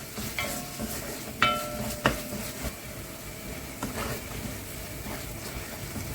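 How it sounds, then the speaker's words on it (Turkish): Tomato paste fries in a pot with a soft, steady sizzle, broken by a few sharp clinks and scrapes of a spoon stirring against the pot, close and without talk. "Salçayı iyice kavuruyorum."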